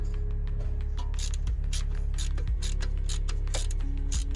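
Torx 30 tool unscrewing an ABS sensor bolt on a car, a rapid run of sharp ratcheting clicks over a steady low hum, close and continuous.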